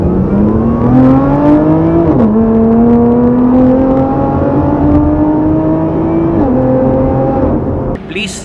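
Lotus Evora GT 430 sports car engine, loud and close, droning with a rising pitch that drops twice as gears shift, sustained throughout with a brief change at the end.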